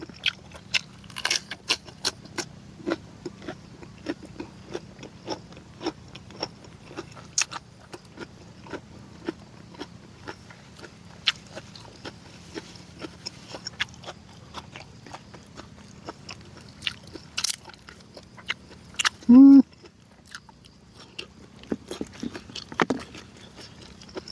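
Close-up crunchy chewing of chicken skin, with sharp crisp bites and crackles scattered irregularly over a quiet background and no talking.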